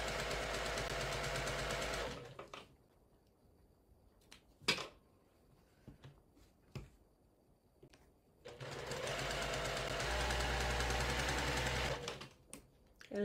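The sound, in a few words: sewing machine stitching a seam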